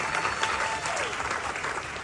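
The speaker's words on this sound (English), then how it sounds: "Give them a round of applause." Audience applause for Dan Henderson and Frank Shamrock at a live stage event, a steady wash of clapping lasting about two seconds at moderate level.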